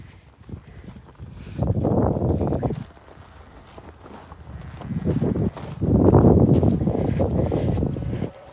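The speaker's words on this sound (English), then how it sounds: "Even though the calves are running like that." Calves in a cattle herd on a farm running over the ground, hooves thudding in two loud bursts of rapid clattering steps with gusty wind noise between and no talk.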